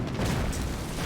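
A mortar shell exploding in a World War II strategy video game, one brief loud low boom with a rumbling tail, heard without talk.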